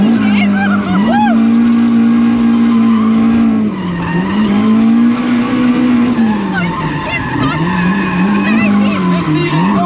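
A car's Honda VTEC engine revs hard under acceleration, its loud droning pitch rising and falling in sweeping surges, heard from inside the cabin with a brief dip near the middle.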